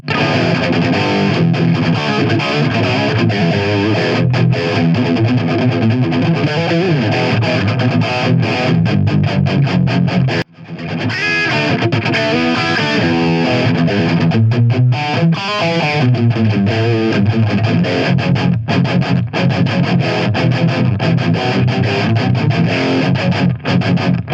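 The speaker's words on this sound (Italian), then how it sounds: "per la distorsione abbiamo tone, gain e volume, e questo è il suono" Heavily distorted electric guitar played continuously through the distortion pedal of a Gokko MX300 analog pedalboard, with a loud, aggressive metal tone and a brief break near the middle.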